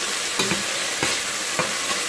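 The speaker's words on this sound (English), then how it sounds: "browning the chicken" Chicken browning in a pot for homemade chicken chili, a steady close sizzle and frying hiss with a few soft stirring scrapes, no voices.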